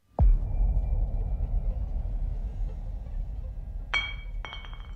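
Glass ink bottle clinking in a voice-acted game scene, a sharp initial knock followed by a low rumbling bed, then two bright glassy clinks near the end, fairly close.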